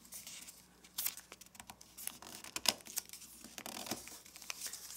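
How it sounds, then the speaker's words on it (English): Origami paper is folded by hand, giving a run of close, crisp crinkles and soft paper rustles with sharper creasing snaps, with no one talking. "let's fold this corner to this corner"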